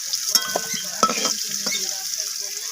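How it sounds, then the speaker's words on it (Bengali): Potato pieces fry in hot oil for a Kashmiri cabbage ghonto, a loud steady sizzle with a few sharp clinks and scrapes of a spatula stirring in the pan. "আমি আলুটাকে ভালোভাবে লালচে করে ভেজে নেব"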